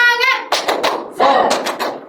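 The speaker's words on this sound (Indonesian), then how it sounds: "Bu Guru mempunyai satu tepuk, yaitu tepuk semangat." A class of pupils doing the 'tepuk semangat' rhythmic clapping chant, with a burst of chanted voices followed by clustered claps and short shouts in two quick phrases, close and lively.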